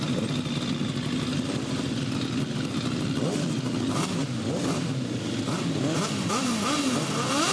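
Sidecar motorcycles revving at the 2007 International Poacher grasstrack race, a loud continuous engine roar with rising and falling pitch as several machines rev together, close and sustained throughout.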